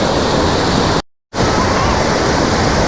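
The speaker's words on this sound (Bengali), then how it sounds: "এই যে পুরো এরিয়াটা বিভিন্ন জায়গার মধ্যে দিয়ে জলটা ফ্লো করে পড়ছে, যার জন্য এই জায়গাটার নাম হচ্ছে দশম ফলস" Dassam Falls, where the Kanchi River drops through ten separate falls during the monsoon, gives a loud, steady, close roar of rushing water that cuts out briefly for a moment before returning.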